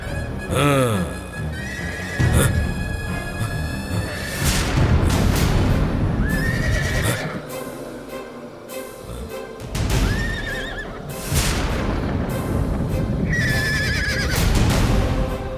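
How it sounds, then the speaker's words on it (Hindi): Horses neighing: loud, repeated whinnies alternate with hoof clip-clop and a dense, busy background, close and strong throughout. "कौन है ये सामने वाला घोड़ा?"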